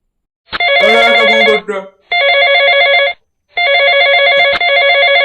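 Loud, close telephone bell ringing in three long repeated bursts separated by short silences, a bright electronic ring with a brief voice-like warble in the first gap.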